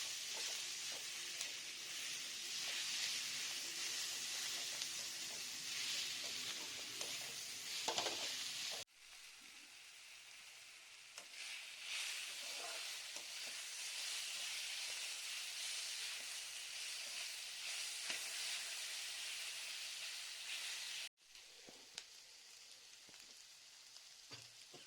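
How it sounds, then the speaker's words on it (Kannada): Grated raw mango sautéing in oil in a pan after onions were fried, for mango chitranna rice: a steady, close frying sizzle and hiss runs throughout with faint stirring, broken by two brief cuts near nine and twenty-one seconds. "ಈರುಳ್ಳಿಯನ್ನು ಹುರಿದುಕೊಂಡ ನಂತರ ಬಾಣಲೆಗೆ ತುರಿದಿಟ್ಟುಕೊಂಡ ಮಾವಿನಕಾಯನ್ನು ಸೇರಿಸ್ಕೊಂಡು ಬಾಡಿಸ್ಕೊಳ್ಳೋಣ"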